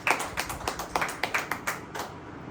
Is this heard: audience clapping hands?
yes